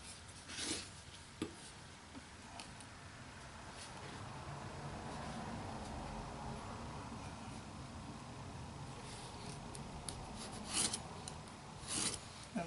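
A pencil draws a line across a wooden piece for a toy tool caddy, making a steady, soft, close scratchy rasp that lasts several seconds, with a few light taps at the start and end.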